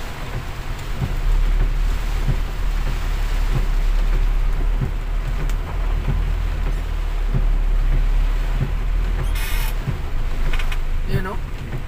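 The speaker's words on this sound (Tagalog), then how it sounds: "Sobrang lakas ng ulan, guys." Very heavy rain pours steadily during Typhoon Enteng in 2024, a loud continuous wash with low wind rumble and scattered splashes, while a person talks over it.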